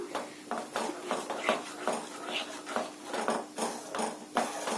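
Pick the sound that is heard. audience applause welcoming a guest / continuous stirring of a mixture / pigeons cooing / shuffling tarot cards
continuous stirring of a mixture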